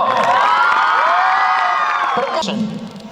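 Children at a school sports day cheer and shout together, a loud, sustained chorus of high voices near at hand that fades slightly toward the end, with some clapping mixed in.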